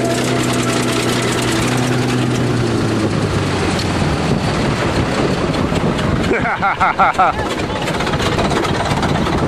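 A heavy diesel bulldozer engine rumbles loudly and continuously nearby while crushing a Buick Regal, its knocking throb shifting partway through as voices talk over it.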